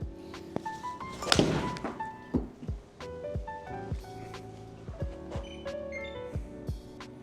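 A golf club strikes a ball on a natural draw shot, a sharp impact thump followed by fainter scattered knocks and rustles outdoors, with no talking.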